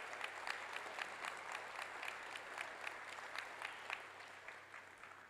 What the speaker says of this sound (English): I just want everyone to please give them a round of applause